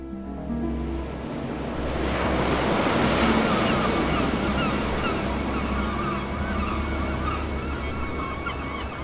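Ocean waves breaking below coastal cliffs in a Maine whaling town, early 1700s, as a steady, full roar of surf with wind, swelling slightly midway and continuing alone without voices.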